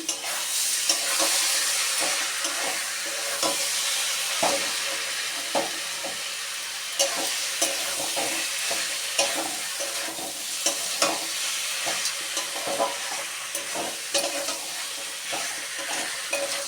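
Green peas stir-fried in a pan for moton er phulko, a steady loud sizzle with frequent sharp scraping clicks of a spatula over about seventeen seconds, no voices.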